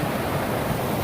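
Loud, steady roar of rushing river water close by where two streams meet, a constant broadband wash with no pauses or other sounds.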